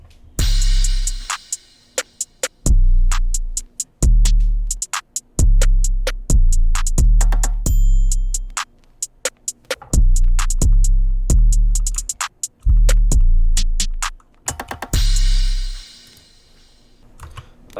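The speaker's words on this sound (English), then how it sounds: "Just to recap, all of the drums together sound like this." Hip-hop drum beat in a dark trap style, with punchy kicks and deep 808 booms locked to crash and triangle hits, playing loud and alone in a steady, syncopated pattern.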